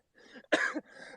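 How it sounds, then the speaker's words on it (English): Coughing from someone with a head cold: a short burst of hoarse, chesty coughs, close and fairly loud, with softer throaty breathing before and after. "So anytime I laugh a lot, like my lungs enlarge and I start coughing"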